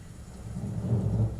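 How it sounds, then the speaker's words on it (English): Thunderstorm ambience of steady rain with a low, rolling rumble of thunder swelling toward the end, a dense wash with no voices. "I have to yell over the rain."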